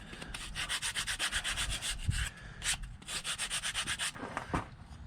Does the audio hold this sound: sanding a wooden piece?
yes